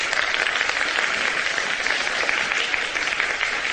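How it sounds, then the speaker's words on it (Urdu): A studio audience at a morning television show applauds steadily, a dense, even wash of many hands clapping at once, moderately loud and continuous with no talk over it. "آڈینس کے لیے کتنی نہیں ہے؟ تالیاں بجا کے بتائیں۔"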